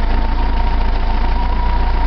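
A 1904cc VW engine with a Solex 34 PICT-3 carburetor idles steadily, with a loud, close, even low throb and a fast regular pulse that does not change.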